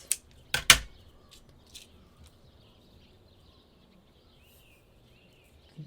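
Scissors cut material while a rosette is being crafted, with a few sharp close snips near the start and then faint scattered clicks over quiet room background.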